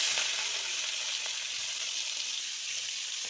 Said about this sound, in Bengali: চিংড়ি মাছটা ভাজা হয়ে গেছে, এবার তুলে নেব।